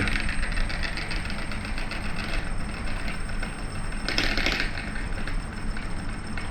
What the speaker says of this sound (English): we'll just go ahead and check the motor.